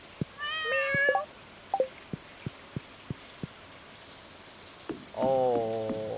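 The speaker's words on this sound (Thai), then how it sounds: "เดี๋ยวเล่นกับแมวก่อน" Cat meows in the Stardew Valley video game: a wavering two-part meow at the start, a series of soft tapping clicks, then a longer harmonic meow at the end, all clear with no talk.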